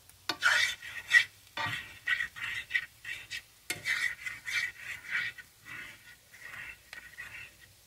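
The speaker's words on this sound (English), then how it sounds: "Stir." Cheesy potatoes O'Brien being stirred in a pan, a run of close scraping and clinking utensil strokes in an uneven rhythm over a faint sizzle, fading slightly toward the end.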